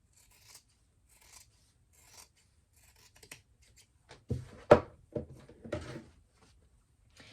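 Scissors snipping fabric overhang on a card-slot wallet clutch, with a few faint cuts early and then a cluster of louder, close crisp snips and rustles.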